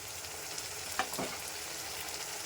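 Spice paste fries in hot oil in a wok with tomato paste, bay leaf and cumin, a steady close sizzle with a brief stir-scrape crackle near the middle.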